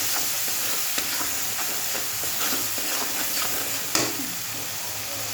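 A paste of mustard, tomato and green chili fries in a pan with a loud, steady close sizzle and hiss, broken by occasional scrapes and taps of a stirring spoon.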